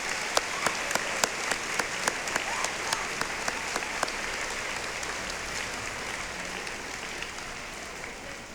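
A school district middle school ceremony audience applauds with sustained, even clapping from a large crowd. A few sharp individual claps stand out early on before the sound settles into a steady wash.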